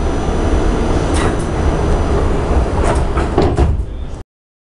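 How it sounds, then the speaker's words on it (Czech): Prague metro train doors close at a station, with sliding thumps and a closing rush over continuous platform and train rumble, ending abruptly in silence. "dveře se zavírají."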